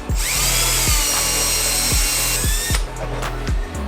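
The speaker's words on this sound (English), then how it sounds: "I'm just gonna drill this guy in a little bit more" A power drill whines loudly and steadily, drilling out a broken bolt in an RB25 engine, its pitch wavering as it bites into metal, with rhythmic low knocking and a brief drop near the end.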